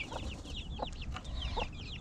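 Chicks let out a run of thin, high peeping calls in a yard, several short chirps close by, alongside a few brief clucks from adult fowl.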